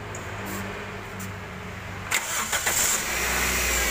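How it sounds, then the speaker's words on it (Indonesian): A car engine cranks over a steady hum, then catches with a few sharp bursts and settles into a low idle, running rough from a worn air-conditioning compressor pulley bearing. "kita nyalain mesin udah terdengar bunyi kasar"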